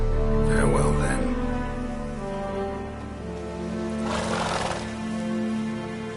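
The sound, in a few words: horse Roach neighing and hooves in video game Witcher 3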